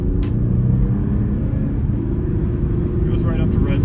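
A Porsche Cayenne diesel SUV accelerates in a steady, loud low-pitched engine rumble that holds throughout, heard from inside the vehicle with a few faint clicks on top.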